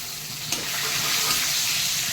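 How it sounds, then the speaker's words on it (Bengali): Whole spices for tempering, including panch phoron and dried red chillies, hit hot oil in a pan. A sharp burst of sizzle starts it, and a loud, steady hissing crackle carries on after. "তেল গরমই হয়ে গেছে আমি ফোড়নটা দিয়ে দেবো"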